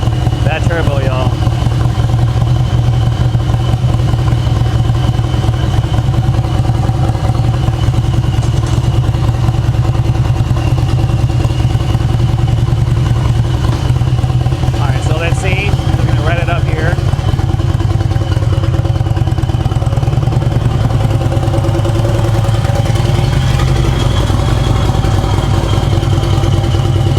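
Turbocharged motorcycle engine of more than 400 horsepower running steadily and loudly close by, a continuous low rumble with a faint whine above it, with brief clatter partway through.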